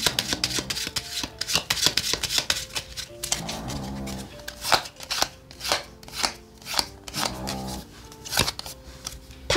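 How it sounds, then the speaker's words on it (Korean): Tarot cards being shuffled by hand, a repeated dry riffling and sliding of card stock in quick bursts, fairly close and clear, with soft tapping between shuffles and no talk. "한 번만 더 셔플 할게요"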